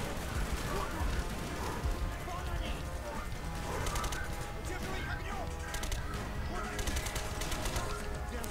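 Machine gun fire in Call of Duty: Black Ops on the Wii, a dense, continuous rattle of rapid shots running throughout under steady game noise and a talking voice.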